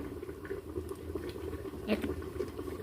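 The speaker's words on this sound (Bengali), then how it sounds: "এক চামচের মতো সর্ষের তেল দিয়ে দিলাম" Soft bubbling and light pattering of hot mustard oil added to a pan after frying ridge gourd, fairly quiet and close, with faint background noise.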